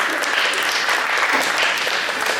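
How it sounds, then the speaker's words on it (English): Loud, dense applause fills the room from a high school post prom show audience, sustained and even throughout with no speech. "Give them all a big round of applause again."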